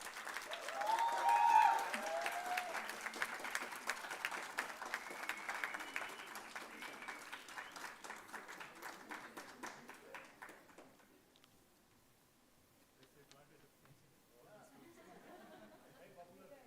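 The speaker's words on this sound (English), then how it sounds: "May we have a huge round of applause." Sustained crowd applause at a media conclave on a Bengaluru university campus, dense clapping with chatter that swells early, gradually thins and dies away, leaving quieter murmuring at the end.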